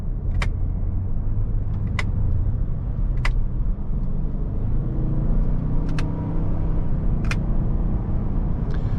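A 2023 Lincoln Navigator Reserve with its 10-speed automatic is heard from inside the cabin during paddle shifting, a steady engine and road rumble under sharp periodic clicks from the paddles.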